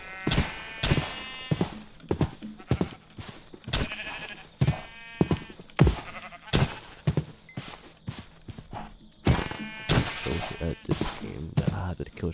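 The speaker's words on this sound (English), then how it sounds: "let's go ahead and kill this sheep to take out my frustrations in this fucking game." Sheep in a Minecraft modpack game bleat repeatedly in harmonic bursts, mixed with blocky footstep clicks and hit sounds, fairly loud and close, with no talking.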